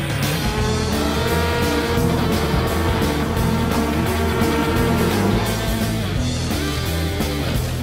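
Racing taxi driven by Nico Rosberg with David Coulthard aboard, a race car engine roaring loud and steady with rhythmic pulsing revs and gear changes, continuous and close throughout.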